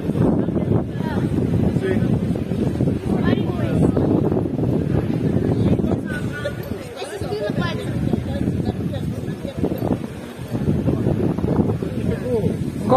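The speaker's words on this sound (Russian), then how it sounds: "Очень сильный ветер" Strong wind buffeting a seaside hotel setting in a warm tropical resort, a steady loud roar with rumbling gusts that fill the whole clip while people talk over it.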